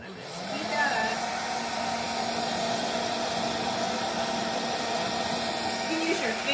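A small hair dryer blows steadily in an art session with oil pastels, a loud continuous whooshing hum with a whining tone, switched on at the start and running throughout.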